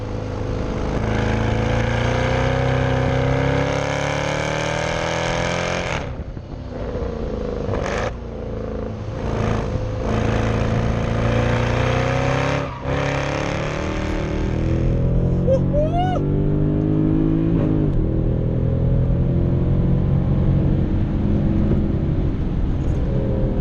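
Mercedes C63 AMG Coupe engine rumbling loudly and continuously up close, with swelling revs and a few sharp dips as it pulls, steady throaty drone throughout.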